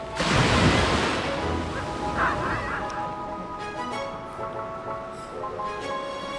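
Ocean waves wash onto a beach in Goa, a steady surf rush that is loudest at the start and then settles into a softer wash, with honking bird calls and faint tonal noise layered over it.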